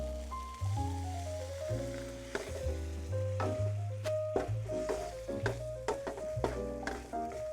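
Curry paste sizzles and crackles in a hot pan alongside stirring scrapes, with a steady low droning hum underneath throughout.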